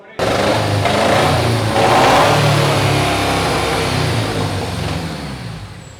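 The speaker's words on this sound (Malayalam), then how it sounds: "ഇതൊരു ടു സിലിണ്ടർ നാനോട പെട്രോൾ എഞ്ചിനാണ് വരുന്നത്" A small two-cylinder petrol engine running close up, a steady throbbing drone that swells briefly then eases back toward idle.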